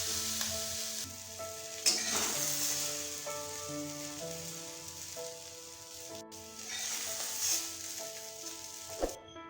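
Bottle gourd peels crackle and sizzle steadily as they fry crisp in a hot pan, a continuous close spitting hiss with occasional louder pops and no voices.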